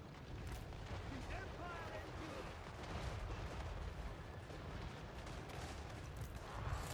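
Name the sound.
artillery and gunners firing in a strategy video game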